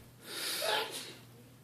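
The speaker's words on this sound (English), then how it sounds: "somebody sneezed" A single quick sneeze from someone indoors, a soft breathy burst with a sharp peak, heard faintly with no talking over it.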